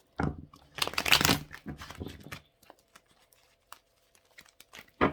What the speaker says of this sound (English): Okay, so this will be the last shuffle.